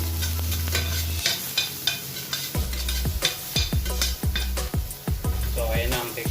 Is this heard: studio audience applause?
no